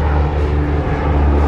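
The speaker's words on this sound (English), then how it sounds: "Ooh, look at that. That's a big plane." A large airplane passes overhead, a loud continuous low engine roar and rumble filling the short span without pause.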